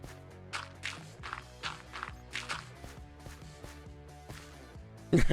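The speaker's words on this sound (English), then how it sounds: "Keep hearing random footsteps." Rhythmic footsteps in Minecraft, a string of soft regular steps over a background music bed, ending with a brief louder burst.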